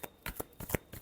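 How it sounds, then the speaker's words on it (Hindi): Tarot cards being shuffled by hand, five quick riffling bursts in about a second, close and fairly soft. "Last shuffle."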